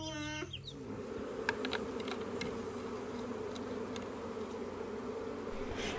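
Bees from a backyard hive hum in a steady, continuous drone that fills the whole stretch, with a few faint clucks from nearby poultry scattered over the buzzing.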